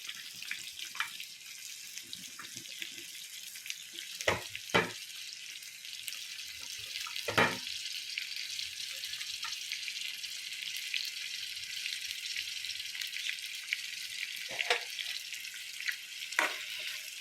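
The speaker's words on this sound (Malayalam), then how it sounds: "തക്കാളി പച്ചമുളക് സബോള ഇത് നമ്മൾ ഈ വെളിച്ചെണ്ണയിൽ വഴറ്റിയെടുക്കാം" Tomato, green chili and onion sautéing in coconut oil for vendakka mappas, a soft steady sizzle with occasional louder clanks and stirring scrapes, close and without talk.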